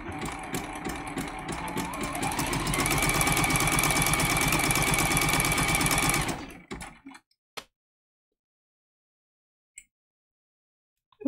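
A sewing machine stitches down an appliqué leaf and hand, running steadily and loudly for about six seconds before stopping, followed by a few faint clicks in near silence.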